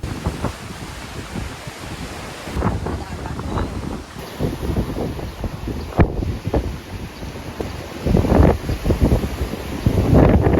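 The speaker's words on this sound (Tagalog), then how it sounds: "Proof na malakas yung hangin." Strong coastal wind in Ilocos buffets the microphone in loud, uneven gusts, with surf-like roaring underneath, growing heavier near the end; a voice can be heard briefly amid the noise.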